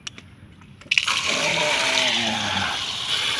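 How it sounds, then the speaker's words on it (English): Water gushing suddenly into a snail-catching setup, a loud close rush that starts abruptly after quiet rustling and keeps pouring steadily to the end. "Big splash."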